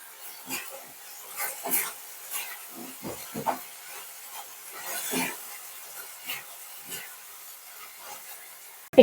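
Ground mustard and green chili paste sizzles in a hot pan, a steady close hiss broken by scattered crackles and scraping stirs, with no voices.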